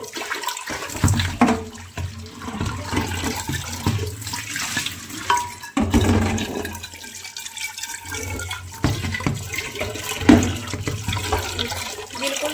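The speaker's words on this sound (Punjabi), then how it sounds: "ਹੁਣ ਆਪਾਂ ਧੋ ਕੇ ਦਿਖਾਉਣੇ ਤੁਹਾਨੂੰ" Running water splashing and rushing over a burnt, blackened aluminium pressure cooker as it is rinsed, with uneven surges and bursts throughout.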